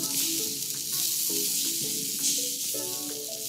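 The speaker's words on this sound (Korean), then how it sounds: "잘 달궈진 석쇠 위에서 소고기가 맛있게 익어가는 소리입니다" Beef sizzling on a well-heated grill grate, a steady close crackling hiss with soft tonal clinks and scrapes from cooking utensils over it, no talk.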